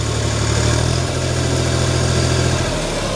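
A DMTZ 244X tractor engine idles steadily and loudly up close, a constant low throbbing rumble with no talk over it.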